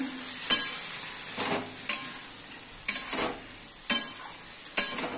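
Spoon stirring chickpeas into fried spices in a pan for ghugni, with a steady sizzle under about five sharp scraping strokes spaced roughly a second apart, close by, no talking.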